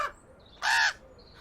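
A crow perched on a fence gives a single loud, harsh caw, clear and fairly close against a quiet outdoor background.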